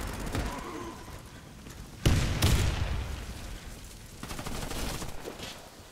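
In the shooter game Warface, a grenade goes off with a sudden loud, broadband blast, followed by a second burst and scattered gunfire that gradually fades.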